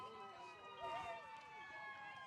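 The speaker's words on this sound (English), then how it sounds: "All the sirens are going off." Emergency sirens, from fire trucks or ambulances, wail through a street near a championship softball game, several overlapping tones rising and falling continuously at moderate distance, with crowd noise underneath.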